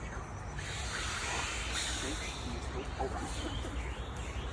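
A group of voices making a broad, rushing whoosh together, imitating crashing waves, steady and fairly loud with a few rising swells.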